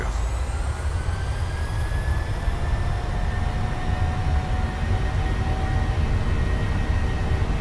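A PMDG 737-700 airliner's engines spool up for takeoff in Microsoft Flight Simulator 2020, a steady loud roar with rising whine tones across the whole stretch, and no voices.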